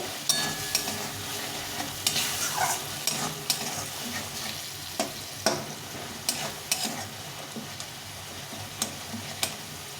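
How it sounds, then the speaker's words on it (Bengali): Spice paste being sautéed and stirred in a pan gives off a continuous low sizzle, punctuated by sharp, regular scrapes and taps of a spoon against the pan, close up and with no voices. "একটু বাকি দিয়ে জল দিয়ে দেবো ভালো করে মশলাটাকে কষিয়ে নেব"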